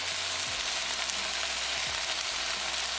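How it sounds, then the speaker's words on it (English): Tomato puree and tomato sauce fry with an Indian tadka for chicken curry, giving a steady, even sizzle that runs unbroken throughout, with a low hum underneath and no talking. "Cook tomato puree along with tadka for 1 minute."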